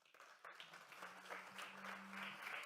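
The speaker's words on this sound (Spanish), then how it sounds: "para quien pido un fuerte aplauso, por favor." Audience applause at a national transport and logistics forum, a steady wash of many hands clapping that builds after a brief pause and holds at moderate loudness throughout.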